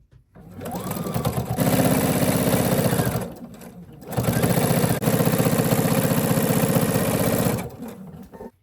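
A sewing machine stitches minky and fleece fabric, running in two long steady whirring bursts with a brief pause between, close and loud, with no voices.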